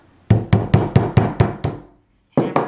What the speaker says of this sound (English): hammer it in there